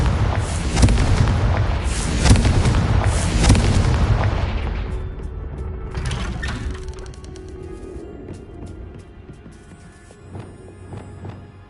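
Repeated Confringo spell explosions in the Hogwarts Legacy video game: a run of loud, close booming blasts over the first several seconds, then fading into rumbling debris and scattered crackles with quieter ambience toward the end.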